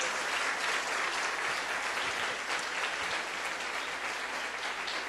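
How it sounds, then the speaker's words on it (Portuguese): A church congregation claps steadily for the whole stretch, a dense, even wash of applause at constant loudness with no talking heard above it. "Dê um aplauso para o Senhor Jesus."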